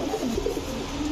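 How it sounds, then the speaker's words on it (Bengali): Indian Kakji pigeons coo in low, rolling phrases, close and clear against a soft background hiss. "ইন্ডিয়ান কাকজি টকটকা লাল গিয়ারের একটা মাদি কবুতর"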